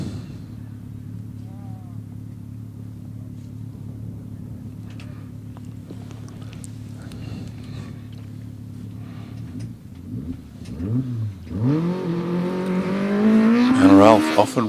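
A Peugeot 205 GTI hillclimb car sits at the start line at Harewood, its engine droning steadily at idle before being blipped into rising, wailing revs over the last few seconds, loud and close.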